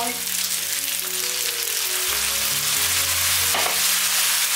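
Filling for Hakka glutinous rice cakes stir-fried in a pan, a loud continuous sizzle with steady stirring and a brief scrape near the end.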